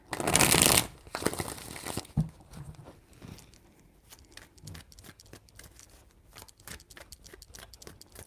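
Tarot cards are shuffled, opening with a loud burst of riffling followed by quieter flicks, taps and soft card snaps through the rest, without talk.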